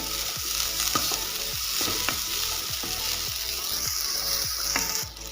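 Spices for green mussel sukka, including mustard seeds, are roasted in a hot kadai, hissing and sizzling steadily while a spatula scrapes and stirs in regular, repeated strokes, close up with no talking.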